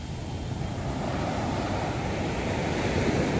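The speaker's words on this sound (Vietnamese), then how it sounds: "sóng biển rất là lớn luôn" Large, rough sea waves break along the Nha Trang shore during a spell of choppy weather. The roar of the surf is loud and constant, with wind buffeting the microphone and no voices heard.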